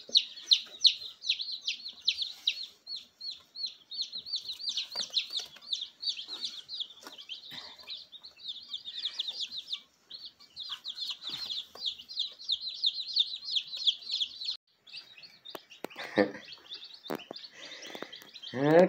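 A newly arrived flock of chickens, mostly small chicks, keeps up continuous high peeping and cheeping nearby, with brief pauses and a few louder calls near the end.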